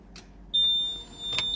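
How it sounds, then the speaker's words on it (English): A single high, steady electronic beep from a Rottne harvester's main power switch sounds for about a second amid faint background noise and soft handling sounds. "hold it in until it beeps"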